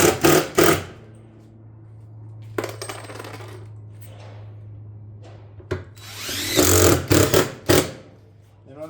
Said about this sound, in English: we'll fasten each hole going across the ridge vent